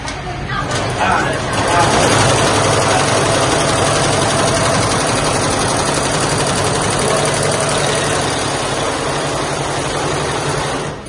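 An industrial machine stitches maggam embroidery on blouse fabric in a Surat workshop, giving a loud, continuous mechanical hum and rattle that runs steadily for the whole stretch.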